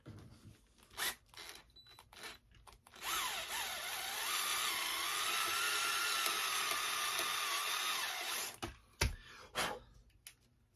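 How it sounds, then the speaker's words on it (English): A screwdriver unscrewing a part of a Ghostbusters proton pack, with scattered scrapes and clicks around a long steady whirring stretch of several seconds, close and fairly loud. "I need a screwdriver to get this out."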